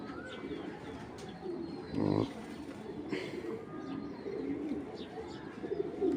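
Racing pigeons coo at a pigeon farm, soft repeated calls spread through the clip over a steady background, with one louder burst near the middle.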